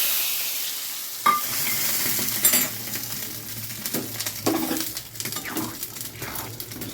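Phoron, a spice tempering for khichuri, sizzles steadily in hot oil at close range, with a few sharp clinks of a utensil against the pan over the constant hiss.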